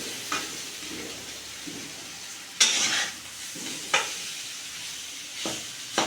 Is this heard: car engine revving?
no